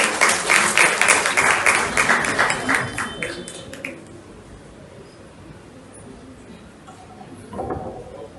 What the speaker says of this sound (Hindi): तालियां जरा जोर से बढ़नी चाहिए